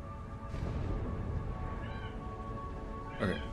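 A domestic cat meows a couple of times, short mewing calls over a dense low background hum, fairly close but not loud.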